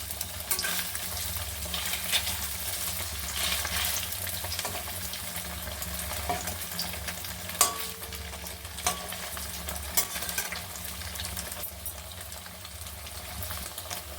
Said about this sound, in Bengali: এবারে উল্টে পাল্টে একটু ভালো করে লাল করে ভেজে নেব।